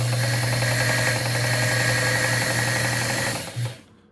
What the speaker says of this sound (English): pretty much the sewing machine will be operational